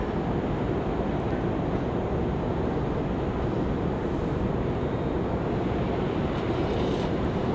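An Aeromexico airliner slowly taxiing off the runway at Raleigh-Durham airport, a steady, broad jet-engine roar heard from a distance, continuous and even, mixed with some wind noise and no talk.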